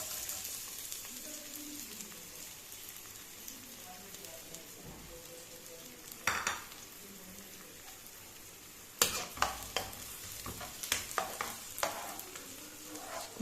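Onion sautés in a pan for a mixed vegetable sabzi. A soft, low sizzle builds into louder crackling bursts as the pieces hit the oil, heard close with no talk.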